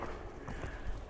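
Horse hooves clip-clop on footing during a riding lesson with flying lead changes, a steady run of close, muffled beats filling the short stretch.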